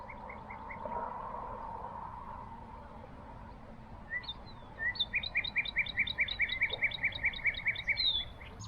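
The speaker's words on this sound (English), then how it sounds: "I've already been surrounded by sparrows and warblers and blackbirds" Small birds by a stream at golden hour, among them sparrows, warblers and blackbirds, sing quick repeated chirps and trills that build into a dense run of high notes over a soft outdoor background, with no talking.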